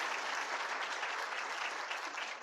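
An audience at a lecture hall claps steadily, with dense, even applause holding at a moderate level throughout without pause.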